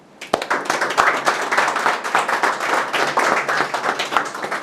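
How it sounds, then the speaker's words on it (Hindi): Applause from a live stock-trading class audience greeting the second-place winner, a burst of dense clapping that starts sharply and holds steady at a fairly close distance, with scattered sharper claps standing out. "सबसे पहले उनके लिए एक जोरदार तालियां"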